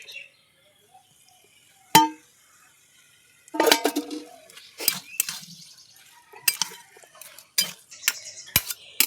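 Spices being stirred into a pan of taro leaf greens, with scattered scraping and clinking strokes of a spoon against the pan that come in irregular bursts after a quiet start, close up and with no talking.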